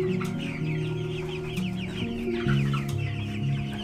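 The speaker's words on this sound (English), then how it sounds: "Look at that. The last chickens." Several chickens cluck and murmur close by in a continuous, overlapping chorus, with a few sharper squawks mixed in.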